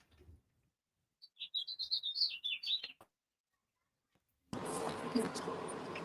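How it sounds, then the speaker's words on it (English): A bird chirps a quick run of high calls, then a sudden burst of loud, broad noise cuts in. "I got some crazy fucking birds out here"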